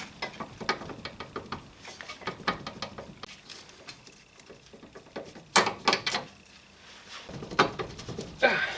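Bolts are tapped out of a strut assembly on a 2002 Mitsubishi Lancer during a coil spring replacement, making a string of quick metallic taps and clinks in irregular bursts, close and fairly loud.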